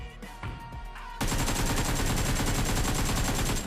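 Rapid automatic gunfire in a shooter video game, a few scattered shots followed by a loud, sustained burst of continuous fire that lasts to the end.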